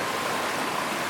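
Freshwater stream flowing along a rainforest path, a steady broadband rush of moving water with no breaks, moderately close and heard alone.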